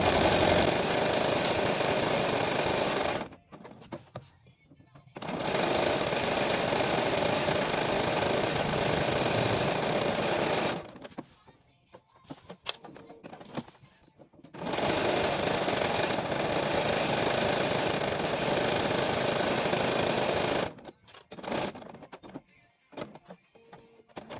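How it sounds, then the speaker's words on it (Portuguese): A sewing machine stitching fabric runs in long steady bursts of a few seconds each, with short pauses and handling noises between runs; no voices. "E costuramos o último pedacinho que nos falta."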